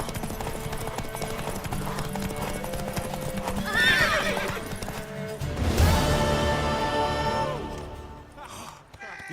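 A horse in The Witcher 3 whinnies twice over a steady clip-clop of hooves, with game ambience around it and the sound fading toward the end.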